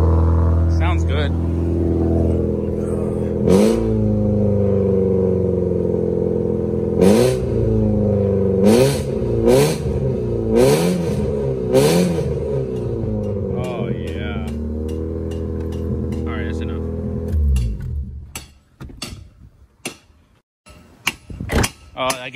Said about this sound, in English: I haven't been in a loud car in a long time.